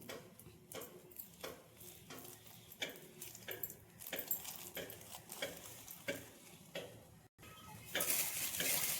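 Urad dal vadas (minapa garelu) fry in hot oil, giving a steady crackling sizzle broken by the scrape and clink of a spoon or utensil against the pan, close and moderately loud with no speech.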